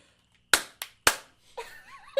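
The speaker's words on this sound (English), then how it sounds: "I'm gonna do a clap thing." Three sharp hand claps ring out close and crisp in a quick uneven rhythm, followed by a faint voice.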